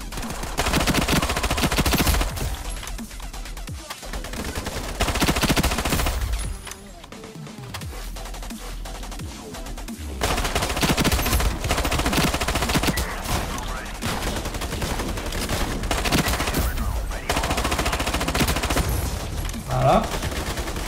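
Sustained automatic gunfire and rapid bursts in the online shooter Ironsight, loud and dense, broken by a short lull before the firing resumes.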